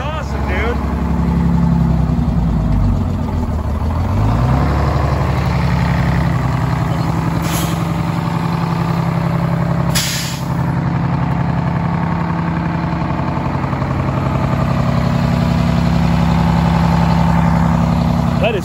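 An old International truck's Detroit Diesel 6-71 turbo engine runs steadily, a loud, continuous low diesel drone close by throughout, with people talking over it and a couple of brief hissing bursts.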